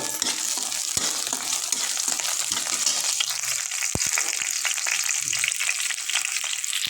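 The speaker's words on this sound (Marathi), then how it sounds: "कांदा परतल्यानंतर त्यात सोनेरी रंग येईपर्यंत परतल्यानंतर त्यात मिरची, कोथिंबीर टाकून घेऊ आणि पुन्हा सोनेरी रंग होईपर्यंत त्याला तळसून घेऊ" Onion with green chili and coriander frying in a pan, a steady broadband sizzle with scattered crackles and a few sharp pops and clinks, close and continuous throughout.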